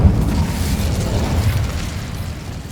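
The Incendio fire spell is cast in Hogwarts Legacy, a video game, and bursts out as a loud, close, rumbling whoosh of flame that holds strong and then eases slightly toward the end.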